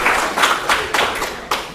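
A small audience at a university technical panel on child welfare and DNA evidence claps briefly, a few distinct, fairly loud hand claps in an uneven rhythm, close and dry, with no talking.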